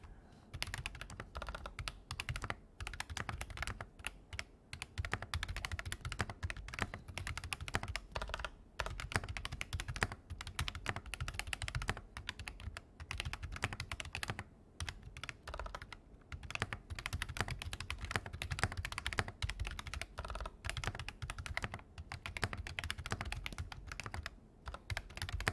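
Mechanical keyboard with MSA-profile keycaps and Gateron Red switches being typed on steadily, a close, continuous patter of keystrokes heard alone.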